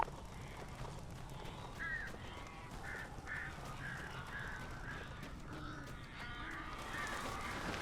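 Birds caw repeatedly in Alan Wake Remastered, with short harsh crow-like calls recurring every second or so over a steady low rumble of game ambience.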